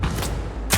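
Gunfire in the shooter game Stalker 2, two quick booming shots with heavy low rumble, the second cutting in sharply near the end of a brief, loud burst.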